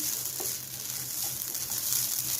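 Mustard seeds splutter in hot oil in a pan, a steady close sizzle with small scattered pops and no voices.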